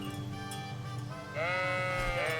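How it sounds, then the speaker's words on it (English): Sheep bleating in the medieval game Kingdom Come: Deliverance, with a wavering bleat rising over a steady game ambience and soft background music, fairly close and loud. "Oh, there's sheep here, so I guess this is the sheepfold."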